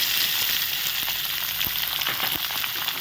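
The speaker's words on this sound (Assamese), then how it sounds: "এতিয়া এই বিলাহীখিনি মই ভালদৰে সিজালৈকে কম দি ভাজি ল'ম।" Chopped tomatoes frying in oil in a pan with ginger and garlic, a steady close hiss of sizzling with a few soft pops and stirring ticks, no voices.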